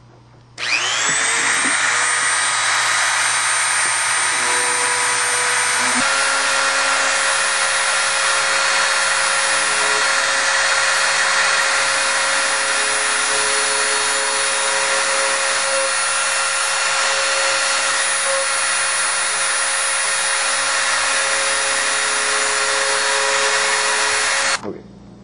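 Small high-pitched rotary tool whining steadily and loud for about 24 seconds, hollowing out a battery space inside a ring for a glowing green lantern, its pitch dropping slightly a few seconds in, then cutting off.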